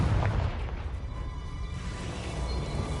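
A Confringo blasting spell fires in the video game Hogwarts Legacy, a loud booming burst at the start that fades into a rumbling tail, with ongoing low game noise beneath.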